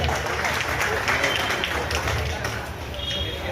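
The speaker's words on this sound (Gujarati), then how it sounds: "જોરદાર તાળીઓ થઈ જાય." A crowd at a Guru Ravidas Jayanti gathering in Surat, Gujarat applauds as a guest is welcomed on stage, a steady roar of many hands clapping with voices audible underneath.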